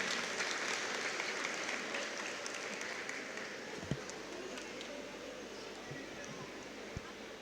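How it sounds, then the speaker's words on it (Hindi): A school audience at a cultural program claps for a children's performance, a continuous, fairly distant wash of applause with a couple of sharper knocks near the end. "एक बार जोरदार तालियां इनकी परफॉर्मेंस की."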